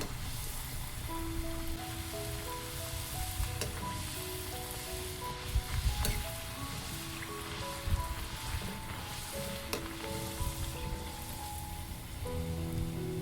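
Rice-flour puris deep-fry in hot oil with a continuous crackling sizzle and bubbling, close and fairly quiet, with gentle tonal music playing underneath throughout.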